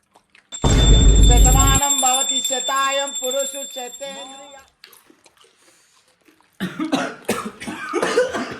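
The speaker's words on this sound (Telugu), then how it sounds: "కొంచెం దగ్గు వస్తుంది" A person coughs a few times in short rough bursts after eating a very hot chili chip, close by, alongside voices and a bright ringing tone.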